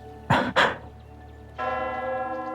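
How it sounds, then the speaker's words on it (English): Two loud strikes of a church bell in Love and Deepspace, close together, followed by a lingering, ringing hum that sustains to the end. "The bell startles the doves, and they fly into the air."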